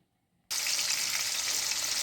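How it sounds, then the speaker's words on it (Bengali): Prawns dropped into hot mustard oil burst into a loud, steady sizzle after half a second of silence and keep frying evenly close by. "এখন আমি চিংড়ি মাছটা সর্ষের তেলে ভেজে নেব"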